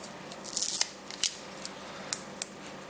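Protective plastic film peels off the face of an Asus ZenWatch 2 smartwatch in a few quiet crackling, rasping strips with small sharp ticks, close up and with no talking.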